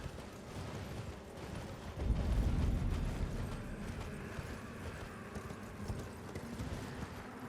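A horse's hooves clop across terrain in Elden Ring, a steady rapid trotting patter under ambient game sound, with a louder thudding burst partway through.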